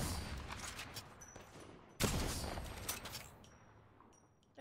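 Enemy gunfire in Apex Legends, somewhat distant and subdued, with a sudden heavy volley midway, scattered shots and clatter around it, and the whole exchange fading toward the end.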